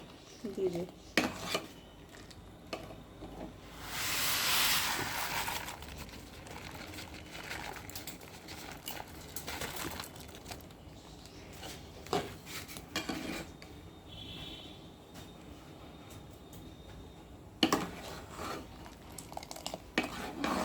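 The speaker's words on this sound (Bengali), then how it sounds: "এবার চিনি আর পেকটিন দিয়ে খুব ভালো করে নাড়তে হবে" Sugar and pectin being stirred in a pot, repeated scraping and clinking of a spoon against metal with bursts of rubbing, fairly faint and close, with occasional talk in the background.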